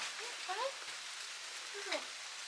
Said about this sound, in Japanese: あ、雨や。